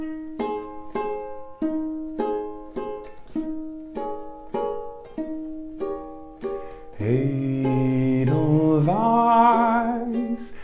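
Ukulele fingerpicking in a bright key: a steady run of clean plucked notes, with a sung melody joining over the strings about two-thirds of the way through.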